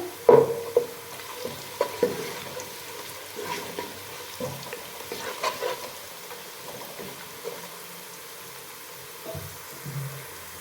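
Cloves, bay leaves, cardamom, cinnamon and black pepper fry in oil for a mixed vegetable pulao, a soft sizzle with intermittent stirring clinks and scrapes, louder at the start and settling down, with no talking.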